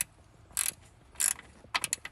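A ratchet wrench clicks in short bursts while unbolting the alternator on a Jeep Grand Cherokee WK2, three quick close bursts with a small pause between them in a quiet garage.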